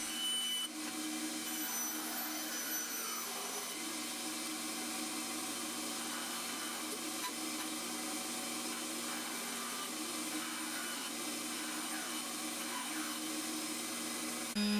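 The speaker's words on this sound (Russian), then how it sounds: "С помощью ленточной пилы распиливаю все." A band saw cuts through 5 mm plywood to shape small parts, giving a steady, fairly quiet whirring hiss that runs without a break.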